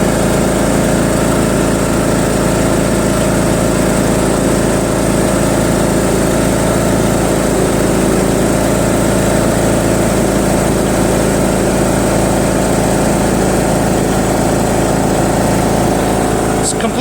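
A John Deere L100 lawn tractor engine running steadily at high throttle in neutral, a loud, constant mechanical drone with strong humming tones and no change throughout.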